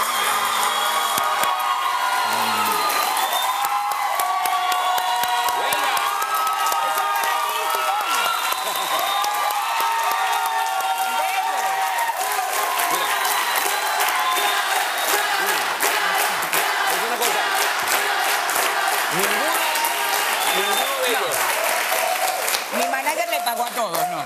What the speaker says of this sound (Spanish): Estos aplausos son para Simón, sí, para Simón y todos los venezolanos.